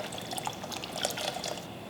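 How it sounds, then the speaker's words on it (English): White wine is poured into a pan holding about two cups of water, making a faint, brief liquid splash and trickle while shrimp poaching liquid is being prepared. "I'm gonna add about 1 cup of white wine."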